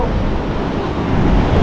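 Steady, loud wind blowing at a beach, a continuous broadband rush with surf-like roar and wind buffeting on the microphone, no pauses and no voices.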